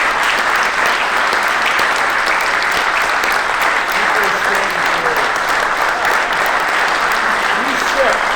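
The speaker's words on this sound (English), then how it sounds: "I'd like to honor them with a round of applause." Sustained applause from an audience honoring two Marine veterans at a 75th anniversary commemoration of Iwo Jima, steady and dense throughout with no break.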